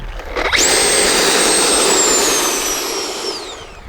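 An Arrows RC Marlin (Avanti) model jet with new landing gear runs while braking and rolls backwards. Its turbine spools up fast to a loud, steady high whine with a broad roar, then winds slightly down near the end.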